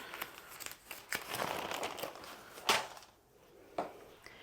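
Packing paper is crumpled by hand to wrap crystals, giving close crinkling and rustling in bursts with a sharper crunch near the end before it quiets down.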